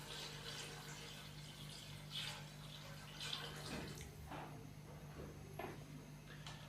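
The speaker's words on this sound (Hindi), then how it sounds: "अभी हम इसके अंदर पानी डालेंगे" Water pours steadily into a pot of chicken pulao, a continuous splashing wash with a low hum beneath, fairly close and moderate in level, with no talking.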